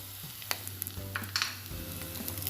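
Chilli powder, coriander powder and garam masala frying in a pan for Kerala-style crab kurma, with a low steady sizzle, a few sharp spoon scrapes and clinks, and no voices.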